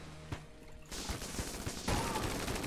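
Dense, continuous gunfire from a boss fight in the video game Enter the Gungeon, with Heck Blaster and Flare Gun weapons: a few isolated shots, then sustained rapid bursts that grow louder near the end, with no talk.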